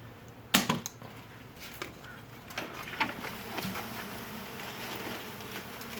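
Honey bees buzzing around a hive cutout job, a dense continuous drone with individual bees passing close, a few sharp knocks and clicks of handling mixed in, no talk.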